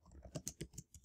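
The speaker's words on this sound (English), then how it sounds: "Oops, I can't spell while you're watching me type." Quick bursts of typing on a computer keyboard, about half a dozen soft, close key clicks in a fast uneven rhythm, quiet and alone.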